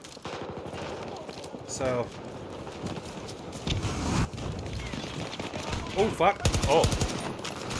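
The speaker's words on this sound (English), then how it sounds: "That was some bad shooting by me right there" Gunfire in the video game Battlefield 2042: rapid bursts of automatic shots at moderate distance, broken into short volleys amid a busy battlefield ambience, with a man briefly exclaiming over it.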